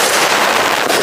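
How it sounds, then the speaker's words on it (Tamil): Triple Bomb Crackers 12-step 4-inch firework shots from Sivakasi explode in a loud, dense burst of crackling blasts that fills the whole moment, close by, with no voices. "இப்போ வந்து பாத்தீங்கன்னா 12 ஸ்டெப் வைக்க போறோம். அவுட்டு 4 இன்ச் அவுட்டு 12 ஸ்டெப் வைக்க போறோம்."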